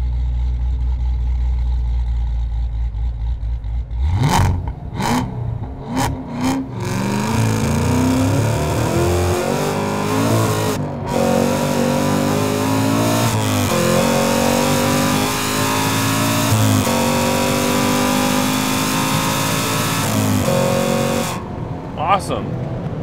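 A 1000-horsepower Hennessey-upgraded Cadillac with a six-speed manual transmission launches hard, its engine revving loudly through a rising roar with brief breaks at gear shifts, heard from inside the car under continuous engine noise.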